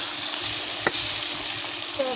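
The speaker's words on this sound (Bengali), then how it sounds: "মশলা থেকে তেল ছিটে গেছে, তাহলে মশলা কষানো হয়ে গেছে।" Spice paste frying in oil while being cooked down for a mutton fat and potato dish, producing a steady, close, hissing sizzle that stays even throughout, with a faint click partway.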